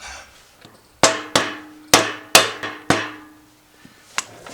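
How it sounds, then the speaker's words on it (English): A mallet taps a grease-filled dust cap onto a Harbor Freight trailer wheel hub. About six sharp, ringing knocks come at an uneven pace, up close, with a couple of lighter taps after them and no talking. "Take our mallet."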